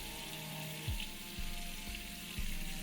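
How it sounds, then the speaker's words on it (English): A quiet, steady sizzle of meat frying in a pan, with a low hum and a few soft shifts in the background. "And now we're getting that sizzle on the meat."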